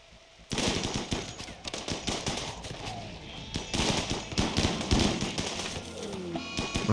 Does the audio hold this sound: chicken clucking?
no